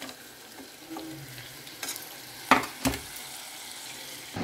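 Tomatoes frying in a pan for a drumstick tomato curry, a soft steady sizzle with a few sharp utensil clinks and stirring knocks, fairly quiet and close.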